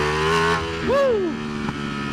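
2019 Ducati V4S superbike engine at a racetrack pit, a loud close rumble with a sharp rising and falling rev blip near the middle, then settling back to a steady throb.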